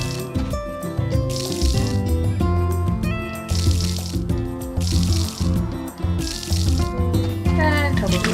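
A watering can sprinkles freshly planted seeds in Story of Seasons: A Wonderful Life, about five short splashing bursts in a steady rhythm over cheerful game music, with a voice talking alongside.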